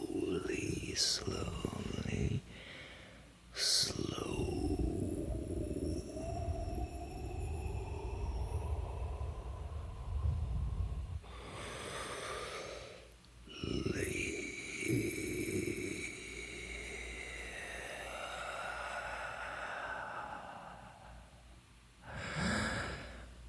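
Slow, deep breathing close to the microphone, with long, drawn-out airy inhales and exhales, soft and whispery, interrupted by a few brief sharper breaths.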